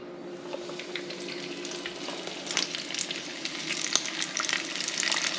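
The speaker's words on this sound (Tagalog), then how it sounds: "Lulutuin na natin ang smelt." Breaded smelt fry in a pan with a steady crackling sizzle, popping bursts thickening toward the end, close and alone with no talk.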